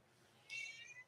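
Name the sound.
cat meowing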